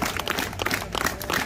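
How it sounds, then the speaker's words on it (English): A crowd claps together in dense, steady applause, fairly loud and fast throughout, with a faint voice in the background. "we'll just have that clap again, except this time a little bit louder, a little bit faster, and a little bit more everybody"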